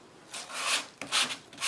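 A sanding block rasps across cardstock in three short back-and-forth strokes, close and quiet, with no talking.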